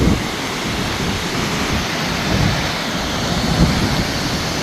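Heavy, steady rain pours down during flooding along the Taquari River in Rio Grande do Sul, a dense, loud roar of water that fills the whole clip with no pauses and no voices.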